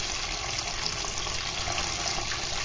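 Water running steadily from a tap into a cooking pot, a constant broadband splashing rush at even loudness throughout, with no talking.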